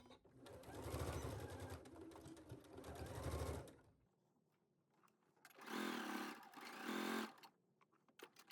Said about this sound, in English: lowering my needle and beginning to sew again